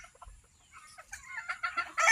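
Chickens cluck and crow while being fed, a close, busy mix of short clucks that builds into a louder crow at the end, with no talk over it.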